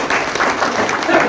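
A crowd at a community foundation ceremony honouring a newly named woman national president applauds loudly and densely as a continuous roar of clapping for just over a second, with faint voices mixed in.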